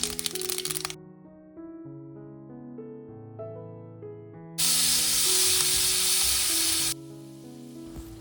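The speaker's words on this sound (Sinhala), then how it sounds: "බටර් මේස හැන්දක් දාලා ඒක රත් වෙනකොට මම ඒකට අබැට් ටිකක් එකතු කරගත්තා." Mustard seeds sizzle in hot butter while peas are being tempered: a loud, steady crackling hiss that rises for about two seconds in the middle, with music playing throughout.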